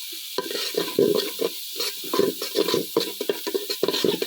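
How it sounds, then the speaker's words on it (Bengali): Bay leaves dropped into hot oil for biryani sizzle under repeated rhythmic scraping strokes of a spatula against the pan, close and steady. "এবার তেজপাতা দিয়ে দিলাম।"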